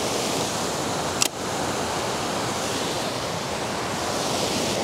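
A forest stream along a Pacific Northwest forest road rushes steadily, a broad constant wash of water filling the whole clip, with one brief sharp click partway through.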